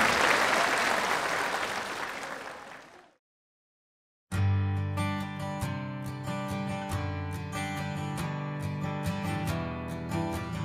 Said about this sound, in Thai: ขอเสียงปรบมือให้กับทุกท่านด้วยความเต็มใจครับ